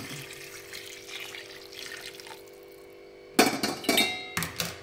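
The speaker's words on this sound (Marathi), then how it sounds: "आपण जे इथे पाणी गरम करून घेतलेलं आहे ते आता ह्या चिकनमध्ये टाकूया" Quiet kitchen hum, then hot water splashes and gurgles into a pot of chicken in a few loud bursts near the end, with clinks of metal.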